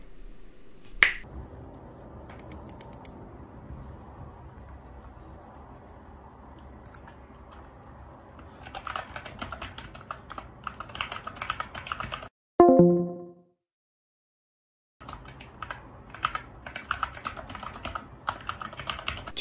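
Stock SK64 mechanical keyboard before modding, tapped in scattered bursts of quiet clicky keystrokes with pauses, plus a sharp snap near the start, a brief tonal blip and a moment of dead silence, all fairly close and faint.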